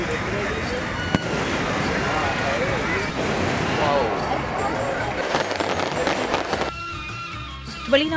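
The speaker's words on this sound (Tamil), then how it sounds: "புத்தாண்டை வரவேற்கும் நோக்கில் தம்புளை மக்கள் வானவெடி வெடித்து கொண்டாடிய காட்சிகளே இவை." Fireworks go off for a Sinhala-Tamil New Year celebration in Dambulla, Sri Lanka, with repeated cracks and bangs over a busy crowd and street background, some bursts sharp and close, others more distant.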